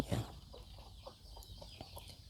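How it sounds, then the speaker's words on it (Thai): Backyard chickens in a Thai garden home at evening clucking softly, with one louder call at the start followed by scattered quiet clucks over low ambient noise. "แอบมาดูไก่นะ"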